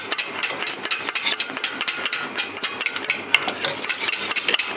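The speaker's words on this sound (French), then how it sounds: "Je continue à battre jusqu'à la formation du ruban" A whisk beats génoise sponge batter toward the ribbon stage, giving a steady, rapid, rhythmic clatter and swish against the bowl that is close and continuous throughout.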